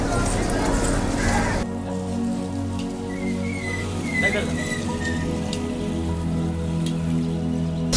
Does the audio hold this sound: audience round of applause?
no